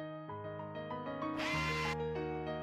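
A power driver fastens screws on a 16S 200A Bluetooth BMS in a LiFePO4 battery box kit, whirring in short rising and falling bursts with one louder, sharper spin near the middle, close and alone.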